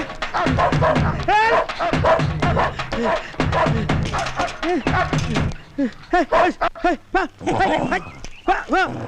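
Dogs bark and yelp in bursts while chasing someone in a comedy film scene, with loud, close shouting and voices mixed among the barks.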